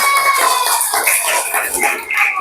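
A classroom of students clapping together, a dense, loud burst of many hands close by with bright overlapping claps.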